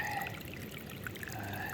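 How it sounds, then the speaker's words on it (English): Water runs steadily over a small spillway at a winter seep, a continuous close trickling and pouring rush with no break. "The little spillway is taking care of the water"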